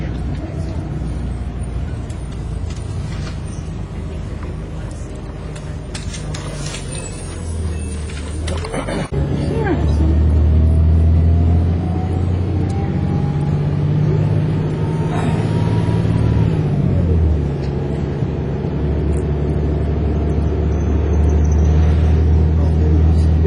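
A tour bus engine rumbles steadily while driving through Zion National Park, a loud low drone that swells midway as the vehicle accelerates, with a faint voice over it.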